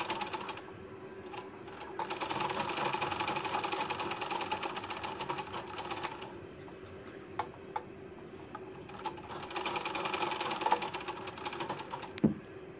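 A sewing machine stitching a princess-cut lined blouse runs in a quiet, fast steady patter, rising and easing in spells, with faint rustles and a small knock near the end.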